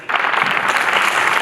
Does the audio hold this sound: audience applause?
yes